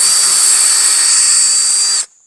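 A power drill bores into a heavy mushroom-growing log, whining loudly and steadily at high pitch for about two seconds before stopping abruptly.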